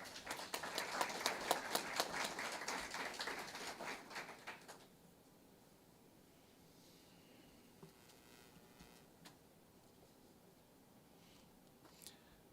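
A small group at a career and technical education signing day at TCAT-Pulaski claps for several seconds, sharp distinct hand claps heard fairly close. The clapping then stops abruptly, leaving a quiet room with a few faint bumps.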